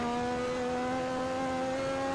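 A turbocharged 1986 Formula 1 car at the Hungarian Grand Prix, its engine holding a steady high-pitched harmonic drone under acceleration, loud and continuous.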